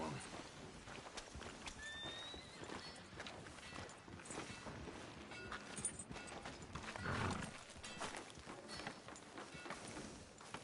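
In the video game Red Dead Redemption 2, a horse whinnies and hooves clop over a busy background with scattered noises, while voices talk faintly throughout.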